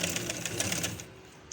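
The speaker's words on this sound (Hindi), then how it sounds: "इसको जो है लास्टिक को हम इस तरह पहले सिलाई लगा लेंगे ऐसे" A sewing machine runs steadily, stitching elastic onto a fabric sleeve, with a rapid, even mechanical whir that carries close and continuous before easing off near the end.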